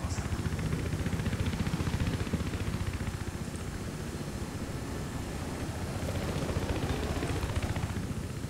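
A helicopter in the video game Battlefield 3 drones steadily with a dense, rumbling rotor and engine wash that holds at an even level throughout, with no voices over it.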